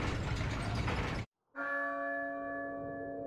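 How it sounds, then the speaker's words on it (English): A bell rings and a gate mechanism rattles in the video game Resident Evil 4: a dense grinding, clanking mechanical run stops abruptly, and after a short silence a sustained bell tone rings out and slowly decays. "And rings the bell."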